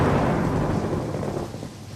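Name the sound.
thunderstorm with thunder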